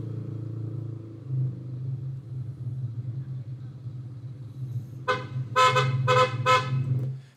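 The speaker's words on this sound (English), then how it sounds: "You heard that. I honked the horn" A motorcycle horn beeps in a quick burst of about four short honks near the end, over a steady low engine rumble while the bike rides along a road.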